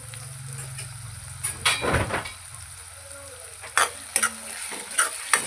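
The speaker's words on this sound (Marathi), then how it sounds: "हा एक मोठा टोमॅटो आहे तो ॲड करूया गॅसची फ्लेम मोठी करूया आणि हे व्यवस्थित भाजून घेऊया" A large tomato roasting in a pan over a high gas flame, a hissing sizzle broken by sharp scrapes and taps of a spatula against the pan, close by, with a low hum early on and no speech.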